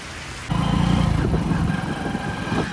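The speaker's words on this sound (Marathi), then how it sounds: "बघा हे पाऊस." A sudden wash of loud, dense rain starts after a moment and keeps roaring steadily, with a low rumbling hum underneath.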